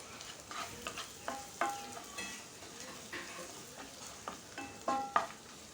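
Spoon stirring pulao masala, Kashmiri chili powder and garam masala as they fry in a pan for vegetable pulao, with intermittent scraping clinks and a soft steady sizzle underneath, close and moderately quiet, no talking.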